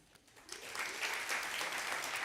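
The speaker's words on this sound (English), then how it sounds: "I'd love a round of applause first off if you think" A conference audience at Nudgestock applauds hygiene wipes in a sustained round of clapping that swells after a quiet start and holds steady and full, with no talk over it.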